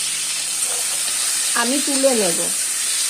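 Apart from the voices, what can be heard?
tangra fish frying and being stirred in oil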